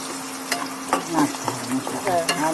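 Chili and cumin powder are stirred in a hot frying pan at home, with a soft sizzle under repeated scraping strokes of a spoon against the pan, close and fairly loud.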